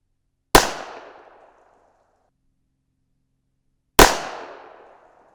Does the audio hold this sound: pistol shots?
yes